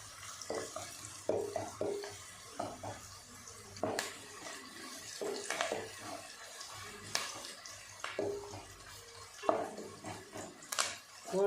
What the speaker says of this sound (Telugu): గోల్డ్ కలర్ వచ్చేంత వరకు ఇలాగా బాగా కలుపుకుంటూ ఉండవాలను.